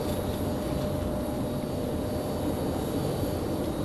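An airliner departing Raleigh-Durham airport produces a distant, steady jet rumble, a moderate unbroken drone with a faint high whine over its few seconds.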